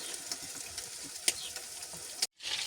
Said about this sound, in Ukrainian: І так будемо смажити на середньому вогні.